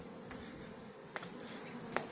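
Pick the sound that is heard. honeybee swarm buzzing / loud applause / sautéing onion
honeybee swarm buzzing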